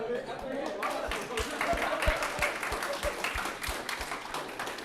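A round of applause for the club founders at a student club's final general meeting, with scattered hands clapping and some whooping while voices talk over it in the room.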